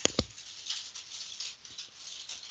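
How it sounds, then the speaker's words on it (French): Hailstones and heavy rain in Brittany patter in a dense, steady hiss of fine crackling impacts, with a couple of sharper taps near the start, heard close and alone without any voices. "C'est des grêlons qui tombent."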